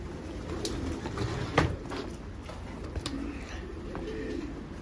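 Pigeons give soft, low coos in short repeated bursts, close by and fairly quiet, with a few sharper clicks and knocks from a feeder and release-door setup in the background.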